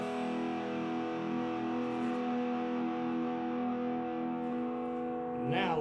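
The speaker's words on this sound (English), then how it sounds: "I'm going to push the clean distortion button" An electric guitar plays through a mini amp on its distortion setting, a sustained distorted chord ringing out evenly and fading near the end.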